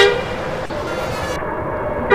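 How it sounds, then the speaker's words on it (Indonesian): In Bus Simulator Indonesia, a Fuso FN62 truck hauling wood sounds a loud, sustained horn blast at a red light, steady and tonal over game engine noise, without talk. "kita klakson."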